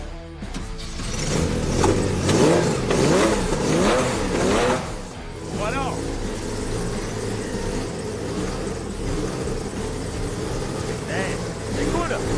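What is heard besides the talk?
Porsche 911 flat-six engine starting and idling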